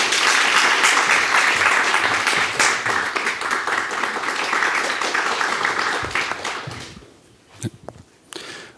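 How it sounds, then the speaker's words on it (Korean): Audience applause at an agricultural global trends forum on sustainable farming, dense and steady for about seven seconds before thinning into a few scattered claps and fading out. "다시 한번 큰 박수 부탁드리겠습니다."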